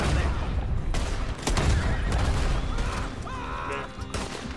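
Rapid gunfire in a Red Dead Redemption 2 shootout, loud repeated shots and booms through a busy mix, with a horse whinnying and voices nearby.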